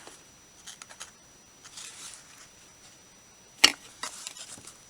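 Scissors snip through a paper junk envelope in a papercraft setting, giving a few soft, brief cuts and one sharp, louder snip near the end, with no voices.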